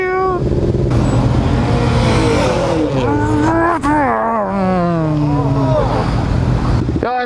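Motorcycle running on race fuel accelerating during a Toronto group ride, a loud rising and falling engine whine with shifting pitch sweeps, close and continuous, with wind noise throughout.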